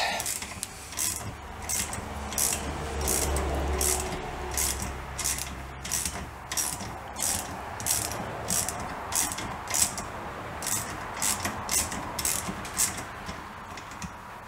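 A ratchet turning a deep well socket on a long extension against a bolt on a BSA B44 trials motorcycle, giving a steady run of rapid, evenly spaced clicking and rasping strokes, close and continuous.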